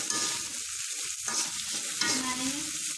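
A shrimp paste mixture sizzles steadily in a hot pan while a utensil stirs it, giving scraping strokes over a continuous crackle of frying, close up, with no voices.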